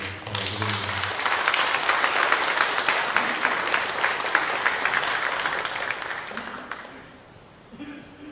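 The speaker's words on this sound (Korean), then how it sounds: "우리 큰 박수로 맞아 주시기를 부탁드립니다" Warm applause from a church assembly audience welcoming the host of a candidates' public hearing, building quickly, holding steady for several seconds, then fading, with brief voices near the start and end.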